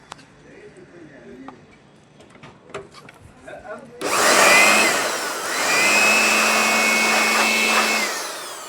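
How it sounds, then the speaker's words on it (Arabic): Someone talks quietly over faint clicks before an air blower bursts on, blowing loudly and steadily into the emptied toner tank of a Kyocera copier, dipping briefly then roaring again. "دلوقتي بقى المفروض ان انا مثلا اديله بلور على كده"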